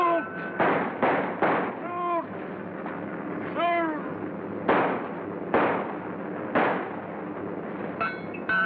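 Rapid bursts of gunfire crack out one after another, loud and close, while voices shout and cry out in between and over the shots.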